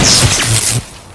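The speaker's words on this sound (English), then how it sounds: "This is the sound of a flat-screen television hurled off a building." A flat-screen television hurled off a building smashes on impact, one loud close crash with a burst of shattering debris that drops off quickly into quiet.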